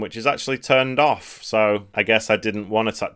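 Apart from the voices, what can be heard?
No everyday noises stand out.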